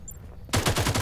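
A short, near, loud burst of rapid automatic gunfire from Farlight 84 starts abruptly after a quiet moment and rattles on in fast repeated shots.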